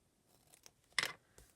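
Paper for a handmade collage snipped with scissors: a few faint soft ticks, then one crisp close cut, followed by a lighter snip, in an otherwise quiet room.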